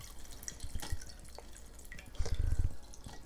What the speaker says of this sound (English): And now we're going to pour the water back in.